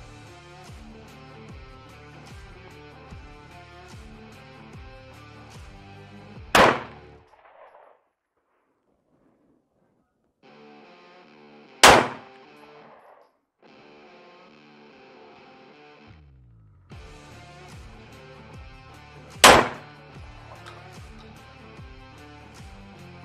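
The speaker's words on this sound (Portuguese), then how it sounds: "Mais um disparo lá." Three sharp, loud gunshots at an outdoor shooting range, spaced several seconds apart, each a hard crack with a short tail, over steady background music.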